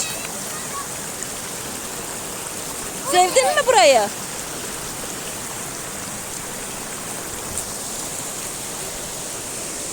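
Waterfall at Aladağ Yedigöz in the Adana highlands, a steady broadband rush of falling water filling the whole clip, with a brief spoken question partway through.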